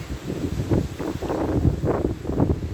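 Strong wind blows outdoors on a rainy walk, a close, loud gusting roar that buffets the microphone in uneven surges, with no voices.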